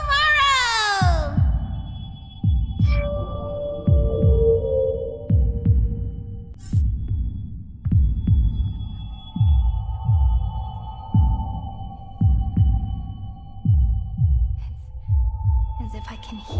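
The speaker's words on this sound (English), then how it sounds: "As if I can hear the sound of my heart beating." A heartbeat effect in a video game sounds as steady, deep, thudding pulses at about one per second, repeated over a long stretch under ringing tonal synth swells and a falling electronic tone.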